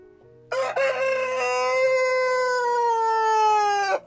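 An Orlov chintz rooster gives a single long, loud, close crow that rises sharply and holds for about three and a half seconds before cutting off, over a quiet farmyard background.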